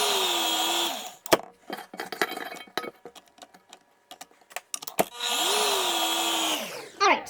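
An electric mixer whirs through sugar cookie dough in a bowl, running in two loud, steady bursts. Between them come scattered scraping and knocking sounds against the bowl.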